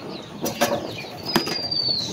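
A short flurry of wing flaps from a quail, a few quick bursts of fluttering close by, with a faint high whistle in the background.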